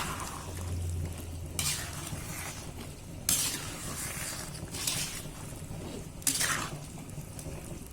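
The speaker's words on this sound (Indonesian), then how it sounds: "Kita aduk lagi." Beef rendang being stirred in a pan, with repeated scraping sweeps of a utensil against the metal over a low steady sizzle, several louder strokes coming in bursts.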